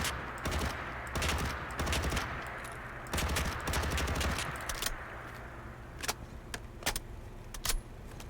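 Modded AUG rifle fired in Fallout 4, with rapid bursts of automatic gunfire at a fast rate, loud and close, separated by short pauses and trailing into a few single shots and mechanical clicks.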